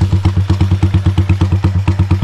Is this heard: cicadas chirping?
no